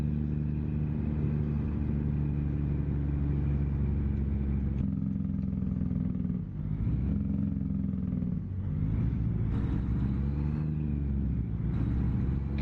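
A Kenworth truck engine in American Truck Simulator idles and revs with a steady, loud diesel rumble, shifting pitch several times as it runs alone without talk.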